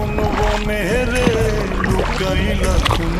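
A small boat is paddled through a shapla water lily beel, with soft oar strokes and water movement sounding close, largely under a voice that carries across the whole stretch.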